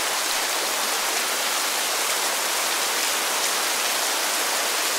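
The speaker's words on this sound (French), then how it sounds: "Petit bruitage de pluie." Steady, dense rain hisses continuously as a broadband wash with no pauses, loud and close, with no voices over it.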